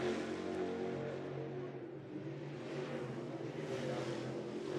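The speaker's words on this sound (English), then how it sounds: "Looks like Cameron Tribble out next in that car number 1." Lucas Oil late model race cars roar around the Golden Isles track, a continuous engine drone that swells and fades as cars pass at a distance, with no voices.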